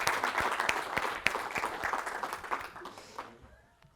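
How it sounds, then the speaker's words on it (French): Conference audience applauding the organisers of an agile-team session, dense clapping with distinct individual claps, thinning out and fading to quiet at the end. "d'applaudir tous les gens qui ont organisé cette session parce que c'est vraiment un super événement"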